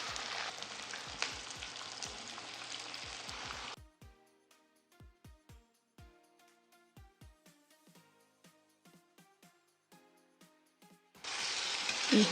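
Spices, garlic paste, tomato paste and red chilli powder frying in a pan for chilli paneer: a loud, steady sizzle at the start and again at the end, with a quieter stretch of sparse clicks and small taps in between.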